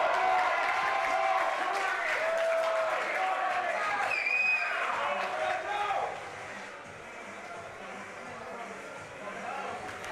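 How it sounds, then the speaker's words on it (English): Crowd at a powerlifting meet cheering and applauding, a dense steady roar with whistles and shouts that eases slightly partway through, with a commentator talking over it. "This crowd is really into it."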